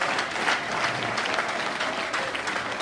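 Congregation applauding in a Church of the Nazarene service, a dense, even burst of many hands clapping that holds steady throughout with no speech over it.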